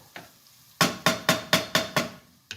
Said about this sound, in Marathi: बटाटे पुन्हा ढवळून घेते थोडे